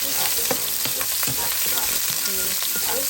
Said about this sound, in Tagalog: stir fry the onion, and then 1 half of onions, and also the garlic